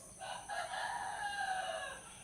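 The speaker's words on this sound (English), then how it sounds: "And we have our chorus of morning cockerels and chickens and ducks and birds." A cockerel crows once in a morning farmyard chorus of chickens and ducks, a clear drawn-out call of about two seconds over a quiet background hiss, with no talk.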